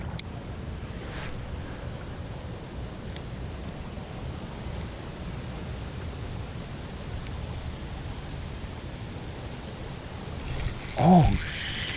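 Steady wind roars by a creek on a chilly, rainy fall day, a broad hissing rush buffeting the microphone with brief louder gusts near the end.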